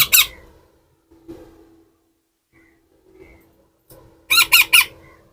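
A pet parakeet squawks loudly while eating, with a short burst at the start and a fast run of three or four harsh, close squawks near the end, separated by a near-silent stretch with faint soft sounds.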